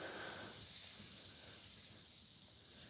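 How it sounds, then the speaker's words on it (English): A hot shovel sizzles on snowy ground during a wild camping cookout, giving a steady close hiss that fades slightly toward the end. "A shovel is sizzling on the ground."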